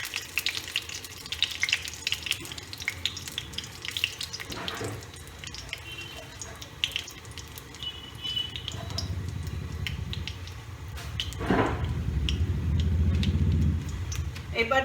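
Small cardamom pods, cloves, cinnamon sticks and bay leaves frying in hot oil for chicken biryani, a moderate sizzle that swells louder toward the end, with a person talking over it.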